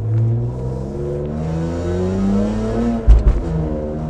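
A BMW E46 M3 with a Borla exhaust pulls hard, its engine note droning and rising steadily up close, then an SMG gearbox shift lands as a sharp jolt before the revs climb again.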